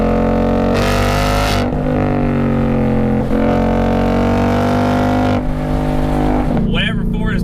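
A Ford Mustang GT Performance Pack V8 roars loudly up close, its exhaust and sharp intake rising and falling through several revving pulls and gear changes, with a brief gap near the end.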